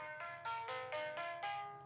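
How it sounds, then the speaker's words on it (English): Phone ringtone set off remotely by KDE Connect's find-device feature on a Pinephone running KDE Plasma Mobile, a faint repeating pattern of short chiming tones in a quick regular rhythm, heard alone. "that was KDE Connect sending a remote signal to get my phone to ring for me"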